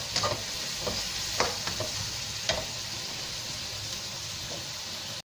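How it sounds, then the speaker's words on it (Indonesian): Bean sprouts and shrimp stir-fried in a pan give a steady, even sizzle with a few sharp clinks of a utensil scraping and stirring near the start. "ni dia masak kilas sayur tunas kacang dengan udang"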